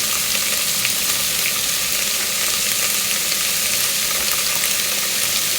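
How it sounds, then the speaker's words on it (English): Tofu sizzles and crackles steadily in a hot pan, a continuous, close-up frying sound with no voices. "frying the tofu or pre-cooking the tofu before you add it to the pasta"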